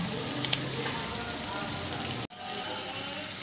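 Tomato, cumin, ginger, chilli paste and turmeric sizzle loudly in a pan of broiler chicken curry as water is added. The hiss is dense and steady, briefly cut off once near the end.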